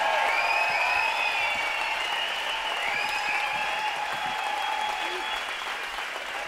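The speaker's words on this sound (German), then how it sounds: "Applaus für diese Weltmeisterband!" A large open-air summer concert crowd at Hofgut Dagobertshausen gives the band sustained, dense applause mixed with cheering, steady and full for the whole stretch, with faint tonal traces from the stage beneath it.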